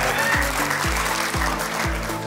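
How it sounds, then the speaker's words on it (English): Applause from an audience at a billfish fishing tournament awards ceremony, honouring the winning boat's crew. Steady, dense clapping fills the clip, mixed with a low repeating hum and rhythmic thumps from the venue. "Let's give him a big round of applause."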